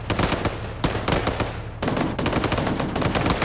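Sustained machine gun suppressive fire in a military video game, heard as a loud, continuous rattle of rapid automatic bursts that overlap without pause.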